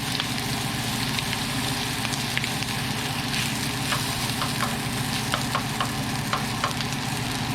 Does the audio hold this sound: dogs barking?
no